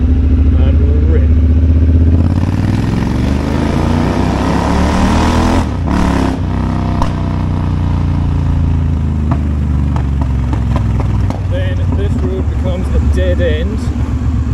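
Motorcycle accelerating hard in second gear through a tunnel, a loud rising engine roar that swells and echoes, briefly dropping around the midpoint before climbing again with clattering mechanical detail.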